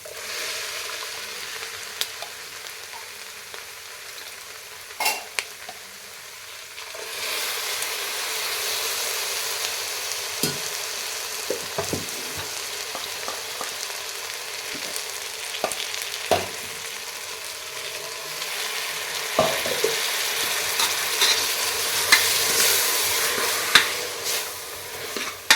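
Ground spice paste frying in hot oil tempering in a pan for sambar, a steady bright sizzle running throughout with occasional clicks of stirring, close and continuous with no talk.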